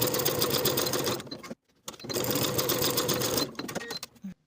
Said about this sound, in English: Sew from the top to the dot with a 3/8 inch seam allowance,